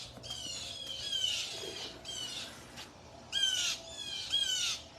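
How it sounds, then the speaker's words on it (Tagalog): Several birds squawk in harsh, repeated bursts, with pauses between outbursts, moderately near over a quiet outdoor background. "Nag-iingay ang mga ibon, mga kaibigan."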